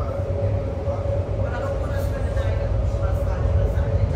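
A steady low rumble and rolling hum fill the inside of a moving BART train car while people talk close by over the continuous noise.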